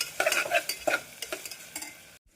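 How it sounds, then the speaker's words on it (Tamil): Tomatoes and green chillies sizzle in a pan while a spoon scrapes and stirs in quick bursts, then the sound cuts off abruptly. "நம் தக்காளி சேர்த்த பின் பச்சை மிளகாயையும் சேர்த்து நன்றாக வதக்க வேண்டும்"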